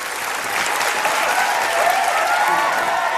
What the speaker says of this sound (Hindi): जोरदार तालियां सारे कंटेस्टेंट्स के लिए।